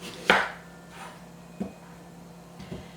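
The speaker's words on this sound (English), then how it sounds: "Then we're going to slice up an onion." A kitchen knife cuts an onion into thin half rings on a board, a few separate close chops spaced out over a quiet background.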